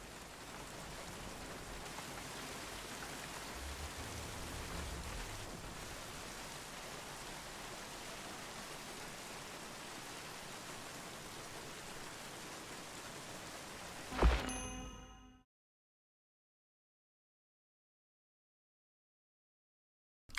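Heavy pouring rain in the video game The Bureau: XCOM Declassified, a dense, steady hiss that runs for about fourteen seconds before a brief thump and abrupt silence.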